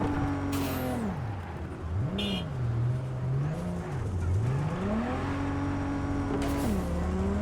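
A video game car engine revving up and down in sweeping pitch changes, with short tire squeals and bursts of noise over a constant hum.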